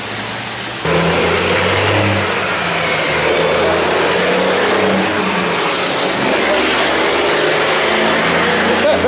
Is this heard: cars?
yes